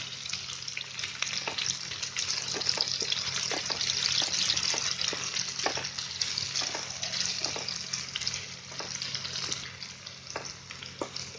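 Onion sizzling in a pan over cumin and mustard seeds, a steady close frying hiss broken by frequent stirring clicks and scrapes, with no voices over it.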